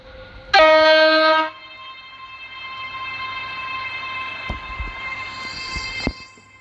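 A Class 801 train in the Roblox game Stepford County Railway sounds a loud two-tone horn blast of about a second, then rolls on with a steady electric hum and occasional clicks of the track.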